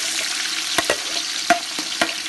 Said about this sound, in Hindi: और ये अब प्याज जो कटा हुआ था, ये अब इसमें हम डाल के फ्राई करेंगे।